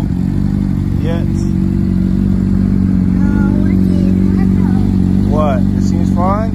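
A motorcycle idles steadily during a pre-ride check, a constant low engine rumble running through the whole stretch with voices talking faintly over it.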